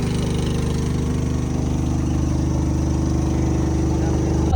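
A small ferry boat's engine runs steadily and loudly at close range, a continuous low mechanical drone with a faint rhythmic pulse that holds throughout without a break.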